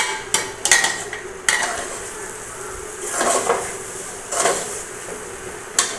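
Spatula stirring poha with fresh coriander in a pan on a gas stove, giving sharp metallic scrapes and knocks in bursts, with quieter shuffling between strikes, close and fairly loud.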